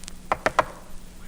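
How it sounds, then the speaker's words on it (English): Three quick, evenly spaced knocks on a door sound close and distinct, alone and without other sounds around them. "I knocked at the door."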